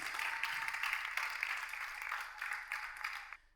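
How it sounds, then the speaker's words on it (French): A studio audience applauds Kassim on a French dating show, steady clapping for a few seconds that stops abruptly. "On applaudit Kassim."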